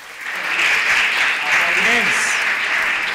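Audience applause at a live radio broadcast held in a culture house, a dense sustained clapping wash with a voice briefly rising over it midway.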